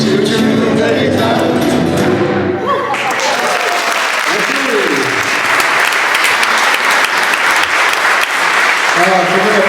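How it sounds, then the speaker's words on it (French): Loud, dense audience applause fills a hall at a tribute concert, starting under the tail end of singing and continuing as sustained clapping with a few cheers throughout. "Vous applaudissez un petit peu, merci."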